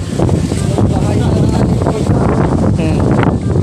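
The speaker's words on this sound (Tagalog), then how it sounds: "Masyadong mahangin." Strong wind at a dam blows hard and steadily across the microphone, a loud continuous roar and buffeting that fills the whole stretch.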